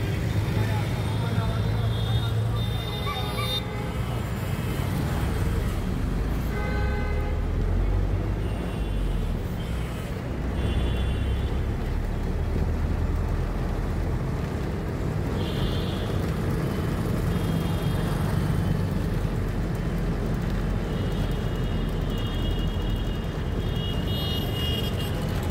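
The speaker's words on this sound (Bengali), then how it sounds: "রাত্রে কলকাতার ট্রাফিকটা দেখুন" Evening traffic rolls along Chittaranjan Avenue in Kolkata near Chandni Chowk metro station, a dense continuous roar of cars and buses with scattered horn toots, while someone talks over it.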